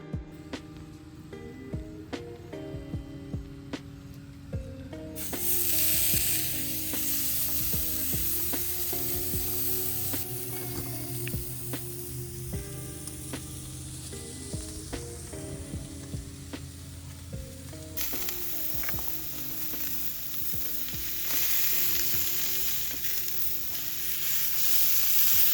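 Buttered food sizzles on an outdoor grill, a steady, close hiss of frying that runs on for a long stretch, getting louder and brighter partway through, with faint clinks and stirring now and then.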